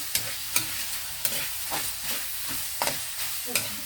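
Hotdog fries with vegetables in a pan for a home-style sautéed dish, a continuous close sizzle punctuated by regular sharp stirring clicks of a utensil against the pan, no talking.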